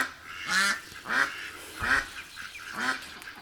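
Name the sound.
ducks quacking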